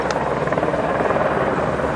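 A helicopter flies overhead with a continuous loud, rhythmic rotor chop that fills the whole stretch, steady and close.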